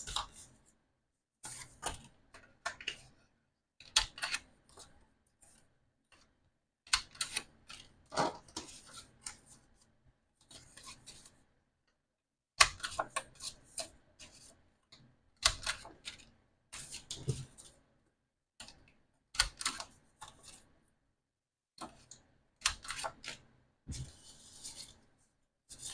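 A corner rounder punch on its 1/4 inch side trims paper corners for a mini album, making sharp separate clicks and short crunchy snips in irregular bursts, close and fairly quiet, with silent gaps between them.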